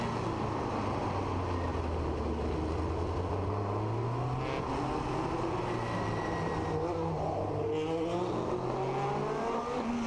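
A 1966 Gurney Eagle Formula 1 car races around the Monaco Grand Prix circuit, its engine heard on board, loud and continuous, rising and falling in pitch through gear changes with no talk.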